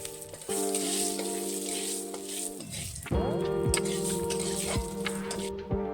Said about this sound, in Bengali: আলু ভাজার তেলেই কিন্তু আরও তেল দিয়ে দিলাম আর তার মধ্যে দিয়ে দিলাম জিরা ফোড়ন জিরা আর শুকনো লঙ্কা তেজপাতা